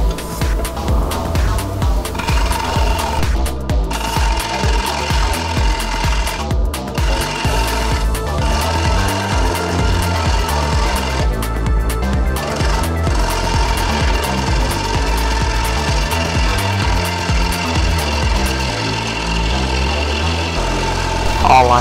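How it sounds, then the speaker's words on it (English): Power tool grinds into a piece of 3/4-inch pine, hollowing out a bird feeder, producing a loud, continuous buzzing rasp with rapid chatter that runs unbroken and close. "Now hollowing out the center more."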